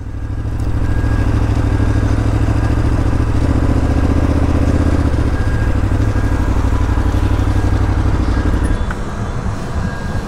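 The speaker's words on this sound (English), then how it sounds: "Just gonna park my bike up here." Motorcycle rolling slowly into Dam Square, Amsterdam, its steady mid-pitched engine drone running close and loud before cutting out near the end as the bike is parked.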